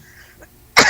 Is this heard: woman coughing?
yes